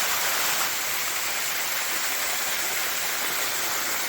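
A river in Thailand flows over calcium mineral rocks, a loud, steady rushing hiss of water close by with no breaks.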